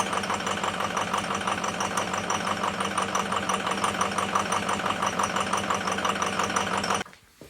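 Ford F-350 diesel engine idling steadily with one cylinder disabled, a loud, even rhythmic clatter running close and continuous, then cutting out abruptly near the end.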